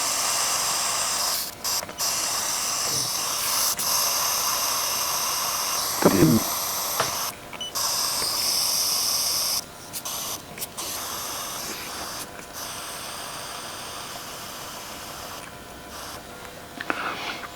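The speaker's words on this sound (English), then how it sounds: "we've let all the air out of the tyre now" Air hisses steadily out of a tyre valve in a long continuous spray, broken by a few short gaps and a couple of faint clicks.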